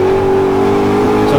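An Ultima GTR engine revving under light throttle at low revs, a steady, loud, close drone with a strong humming tone that holds even throughout.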